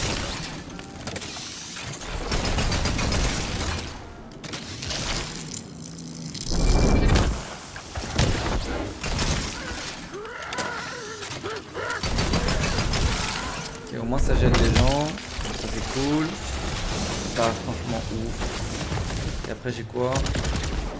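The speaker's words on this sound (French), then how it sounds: "je vais tester l'autre fusil à pompe qui gèle" Freezing pump-action shotgun blasts in Tiny Tina's Wonderlands, several loud bursts with shattering, crackling impacts scattered through the fighting, mixed with game effects and someone talking over it.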